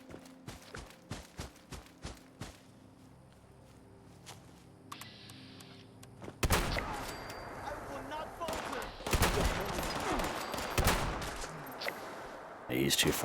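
Shotgun fire in the video game Fallout 76, with a series of sharp blasts spaced early on, then heavier booming gunfire and combat clatter building through the rest, while a voice talks intermittently.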